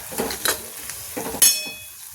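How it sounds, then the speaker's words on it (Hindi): Onions fry in a pan as red chili, coriander powder, salt and turmeric go in, with a few brief scraping stirs and a sharp metallic clink over a soft, steady sizzle. "और प्याज मेरी फ्राई हो चुकी है"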